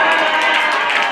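A crowd at a women's month closing ceremony claps and cheers in a brief, loud, continuous burst of many hands and voices.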